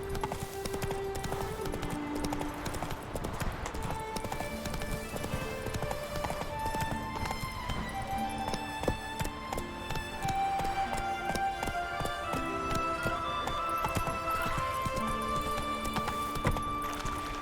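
Roach, a horse in The Witcher 3, gallops in steady rapid hoofbeats under ongoing music, with a whinny heard amid the continuous clip-clop.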